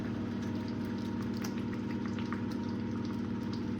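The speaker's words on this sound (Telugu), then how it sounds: "చూడండి గ్రేవీ మొత్తం బాగా ఉడుకుతుంది కదా" Thick egg curry gravy made with butter and a ground paste bubbles in a pan, a soft close steady simmer with scattered little pops and blips throughout, quiet and without any voices.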